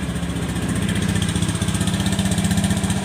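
A Honda Vario 110 FI scooter idling on a cold engine, a close, steady, fast-pulsing putter that runs evenly throughout, with no voices.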